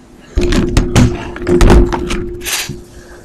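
A mud jug slips out of a hand and falls, hitting the ground with a series of close, heavy thuds and clatters as it bounces and rattles to a stop. There is no talk.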